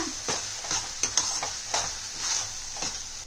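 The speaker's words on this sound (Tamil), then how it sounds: "இப்போ இது எல்லாத்தையும் நல்லா கிளறி விட்டுருங்க." Soft scraping and stirring in a pan over a gentle sizzle, with a few light clinks of a utensil against the sides.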